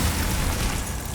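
A Confringo blasting spell explodes in Hogwarts Legacy, a loud, dense boom of broadband crackle and low rumble that holds steady for just over a second with no talk.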